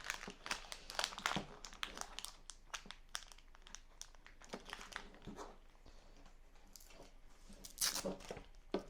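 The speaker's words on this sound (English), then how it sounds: "Let me just take this plastic off" Thin plastic wrapping crinkles and crumples as it is pulled off a folding 1800W LOVEPS hair dryer, close by in rapid irregular bursts that swell loudest near the end, with no talking.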